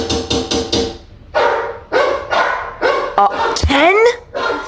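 A dog barks in a rapid series of sharp woofs mixed with rising whimpers and yips, close and loud, while a person talks over it.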